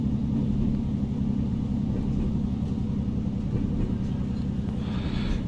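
A Class 153 diesel railcar engine labours uphill in Train Simulator Classic, a steady, loud low rumble and drone running throughout with no let-up, joined by a faint higher hiss near the end.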